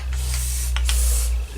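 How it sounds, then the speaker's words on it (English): Short bursts of an airbrush spraying, backed by a constant low hum from a compressor, with two quick hissing pulses standing out near the middle. "let's do another quick spray"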